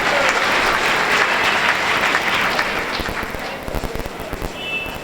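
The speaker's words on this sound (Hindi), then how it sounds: "जरा जोरदार तालियां बजाइए।" A large audience at a Hindi poetry and literature event breaks into loud, sustained applause, a thick roar of many hands that stays strong for several seconds before thinning into scattered claps near the end.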